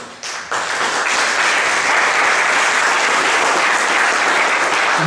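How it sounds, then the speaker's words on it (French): After a brief quiet moment, an audience at a Paris launch event bursts into warm, vigorous applause that quickly swells and holds at full strength to the end. "je vous demande d'applaudir chaudement Monsieur Jean-Baptiste Pétuel"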